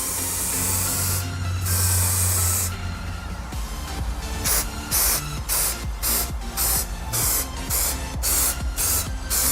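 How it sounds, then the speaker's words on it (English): AC Pro-Tech rust protection coating is sprayed through air conditioner coils, first in long steady hissing bursts, then in a quick run of short, rhythmic spray pulses, close and clear with no talking. "Let's show you a quick close-up of what happens when you apply the coating through the coils."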